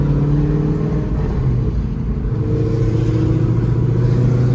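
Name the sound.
sixth-generation Chevrolet Camaro engine revving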